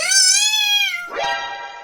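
A tomcat in a cartoon lets out a loud, drawn-out meow that holds steady, then drops into a shorter, rougher second cry.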